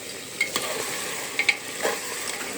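Mutton sizzles as it is sautéed in a small amount of oil, a steady close hiss broken by several clinks and scrapes of a stirring spoon; nobody talks.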